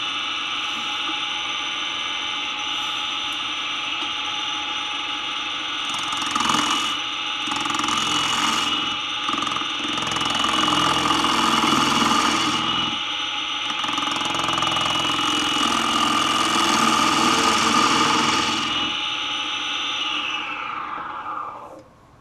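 A wood lathe spins a candle holder blank while a spindle gouge cuts into it, giving a steady motor whine with rough, varying cutting noise that swells and fades over the turning.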